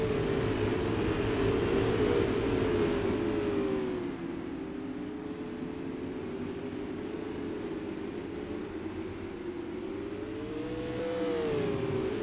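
Race cars roaring around Madera Speedway under green flag racing, a loud engine drone swelling as the pack passes, easing off, then building again as cars come back around.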